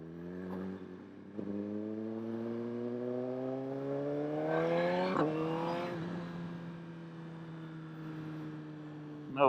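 A 2022 Suzuki GSX-R1000R sport bike rides along a quiet rural road, its engine note rising steadily through the gears with clear shifts, close and fairly loud and continuous, with no talk over it.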